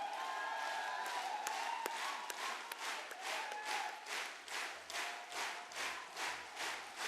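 Loud applause and cheering fill a network-marketing training program hall, a steady wash of many hands clapping with crowd noise that swells into rhythmic, pulsing bursts toward the end.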